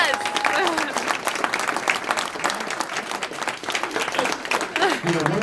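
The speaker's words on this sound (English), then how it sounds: "give her a round of applause" An audience applauds a Hall of Fame inductee at a rowing event, with sustained, busy clapping and crowd noise, and voices and cheers mixed in throughout.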